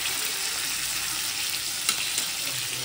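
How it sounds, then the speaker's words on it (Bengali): Live fish frying in a pan with oil, a loud, steady, dense sizzle running throughout with a couple of small pops and spatters, no voices. "ফটাফট ভাজা করে নিই ঝটপট"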